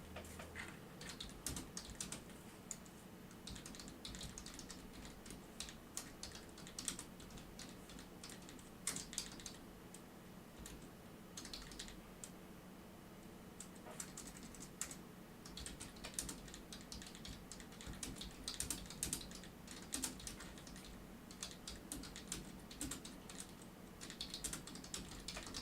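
Rapid, uneven clatter of a computer keyboard being typed on up close, bursts of keystrokes with brief pauses, steady and fairly quiet with no voices.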